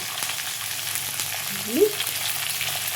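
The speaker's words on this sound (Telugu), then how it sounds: "పచ్చిమిర్చి మంచిగా వేగితే ఫ్రైడ్ రైస్కి టేస్ట్ బాగుంటుంది." Green chillies fry in oil for broccoli fried rice with a steady, moderate crackling sizzle and one brief tonal scrape near the middle, heard close with no speech.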